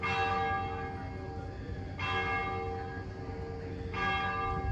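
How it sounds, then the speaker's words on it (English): Church bells ringing in Trastevere, Rome, several slow, resonant strikes about two seconds apart, each ringing on with long humming overtones at a moderate distance. "love the church bells ringing"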